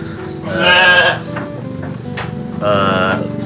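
Sheep on a farm bleat close by in two loud, wavering calls separated by a short pause, over faint background noise.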